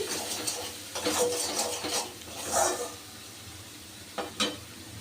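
Spatula scraping and stirring a thick spice paste in a pan, several uneven strokes with a soft sizzle underneath, close up and without talk.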